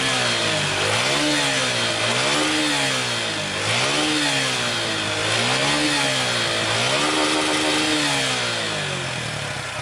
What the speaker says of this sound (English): The exhaust note is equally impressive as it is bassy throughout the rev range.